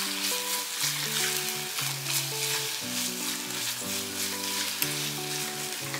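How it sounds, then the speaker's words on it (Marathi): Eggplant bharit being sautéed with masala in a pan, a steady close sizzle and frying hiss running throughout, with soft music playing underneath. "आणि व्यवस्थित हे परतून घ्यायचं आहे. सगळा मसाला व्यवस्थित कोट झाला पाहिजे."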